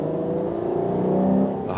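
A 2023 Ferrari Purosangue with a naturally aspirated engine accelerates, its smooth, steady, sonorous tone rising slightly in pitch throughout, loud and close.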